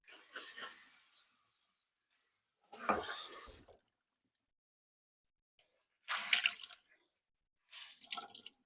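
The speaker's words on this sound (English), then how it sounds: "Let me just rinse this one out." Running water rinsing a tie-dyed item, coming in four short splashy bursts separated by silence, close and moderately quiet.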